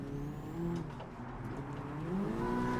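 Honda Civic Type R, a 2022 model, revving hard in a racing video game on a reverse long track at Lake Louise, a steady engine drone with rising and falling pitch, loud and continuous with no talk.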